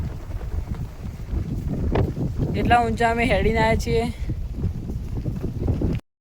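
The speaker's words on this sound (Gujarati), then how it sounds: "અહીંયા એટલો પવન આવે છે કે બહુ" Strong wind sweeps across a high hilltop by a temple in Banaskantha, Gujarat, a steady roaring buffet on the microphone that runs the whole time beneath a person talking.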